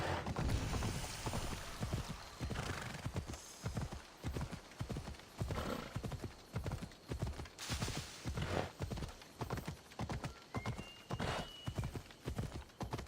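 Horse hooves clip-clop in a quick, steady rhythm on hard ground in the video game Assassin's Creed Odyssey, close and distinct, with a brief whinny and light background ambience.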